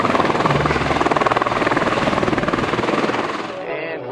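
A Maverick tour helicopter lifts off at the Grand Canyon, its rotor beating in a fast, loud, steady chop with engine whine, then thinning out toward the end as it climbs away.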